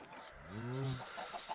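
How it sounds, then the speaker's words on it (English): Chickens cluck in the Minecraft modpack Enigmatica 6, a short rising-and-falling cackle up close followed by quieter clucks, over a faint game background. "Why do I have multiple chickens over here?"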